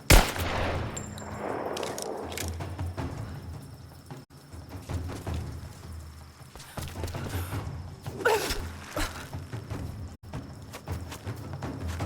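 Pistol shots ring out in the Rise of the Tomb Raider video game, several sharp cracks scattered over continuous game ambience and rumble, fairly loud and close.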